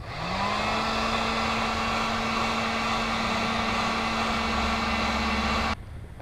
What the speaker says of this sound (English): you can struggle by hand or use a heat gun. It helps soften the rubber.